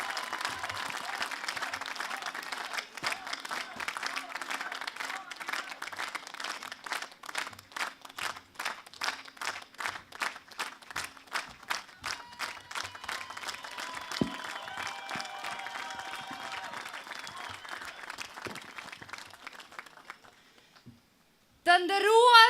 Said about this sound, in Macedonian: да ја поздравиме со громогласен аплауз.